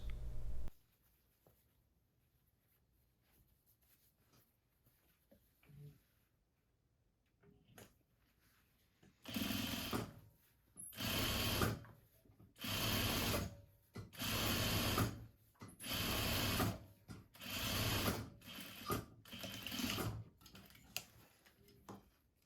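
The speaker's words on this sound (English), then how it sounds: "you can also now sew the hem of the sleeve at a 3/4 inch top stitch" A sewing machine topstitches a 3/4 inch sleeve hem on a classic peplum cardigan: a quiet start with faint handling noises, then about nine short, even bursts of stitching in a steady rhythm.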